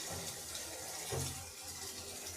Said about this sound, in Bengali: আপনারাও এইভাবেই লাউ শাকগুলোকে খুব ভালোভাবে দুই থেকে তিনবার রানিং জলের মধ্যে ডুবিয়ে ডুবিয়ে খুব ভালোভাবে ধুয়ে নেবেন